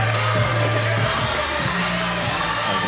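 Wrestling crowd at an Inspire Pro Wrestling event cheering and shouting in appreciation, a dense, steady roar of voices with scattered whoops throughout, sounding close and loud.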